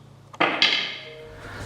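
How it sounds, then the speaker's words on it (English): A big hammer strikes a stuck centre part on a Ferguson TEA20 tractor. Two sharp metallic blows land close together and leave a ringing tail fading over a quiet background. "after a bit of drilling and smacking with a big hammer, that centre is now free"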